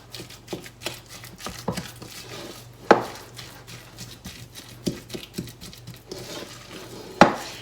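Partly frozen ground turkey is mixed in a bowl for patties, producing scattered soft squelches and irregular utensil clinks and knocks against the dish, with a few sharper taps standing out over a faint background hum.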